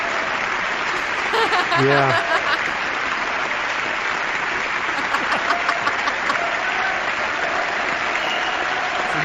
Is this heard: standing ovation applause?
yes